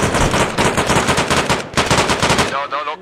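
Heavy machine gun fire in the Vietnam jungle combat of the video game Arma Reforger, with loud, rapid, sustained bursts, close by, a brief break, then more firing before it fades.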